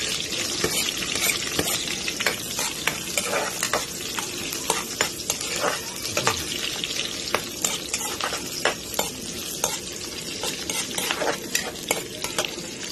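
Garlic sizzles and fries steadily in a pan, with close, repeated scraping strokes of a stirring utensil over a constant crackling hiss, no voices.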